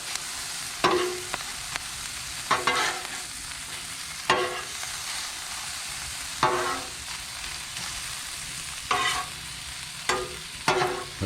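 Sausage, onions, garlic and lettuce frying on a Blackstone griddle at a campsite, a steady sizzle broken by several loud scraping, stirring strokes of a spatula against the flat top at irregular intervals, with no talking.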